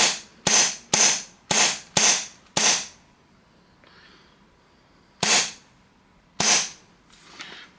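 Novritsch SSP5 airsoft pistol firing: six sharp pops in quick succession, a pause, then two more spaced shots, close and loud with no talking.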